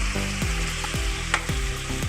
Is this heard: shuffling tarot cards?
no